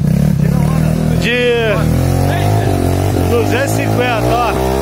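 A 250cc kart cross engine climbs a slope, its loud, close, high-revving whine rising and falling in pitch over several gear changes, with someone talking over it.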